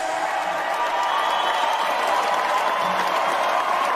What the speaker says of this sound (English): And well-deserved applause.